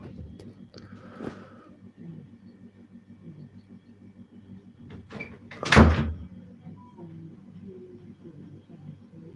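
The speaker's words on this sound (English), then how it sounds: "The door has knocked." Someone knocks on a door in a quiet indoor room. A few faint taps come first, then a single sharper, louder knock, with low room hum underneath.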